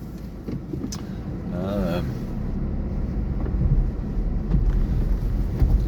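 A car drives over open moorland between Colne and Haworth, its low engine and road rumble steady and close with wind buffeting the mic, and a voice briefly speaks over it.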